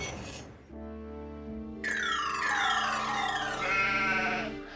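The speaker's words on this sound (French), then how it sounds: "Les moutons ont décidé de brouter entre les rails aujourd'hui." Cartoon sheep bleat while grazing between railway tracks, long wavering bleats that rise and fall, loud and close, with a sustained low tone underneath and no talking.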